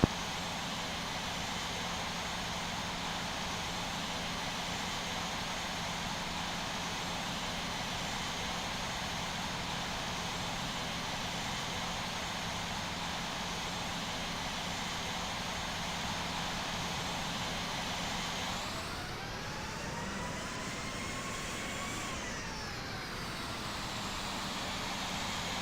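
Steady, fairly faint jet engine drone of an airliner taxiing to parking in the Infinite Flight simulator game, continuous throughout with a brief rising and falling whine near the end, no talk.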